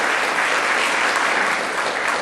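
An audience at a dance and music studio showcase applauds the scenic designer who painted the backdrops: steady, dense clapping from a crowd, moderately loud and unbroken throughout.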